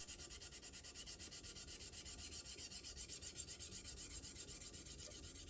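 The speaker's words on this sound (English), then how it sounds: "Next, it's on to hand sanding up to 400 grit." Hand sanding a Damascus steel chef's knife blade with stick-on sandpaper up to 400 grit, a close, steady rasping rub repeating in quick, even back-and-forth strokes, about five per second, with no voices.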